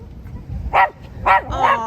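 A dog barks on an outing along the California Central Coast near Morro Bay, three sharp close barks in quick succession over light background noise.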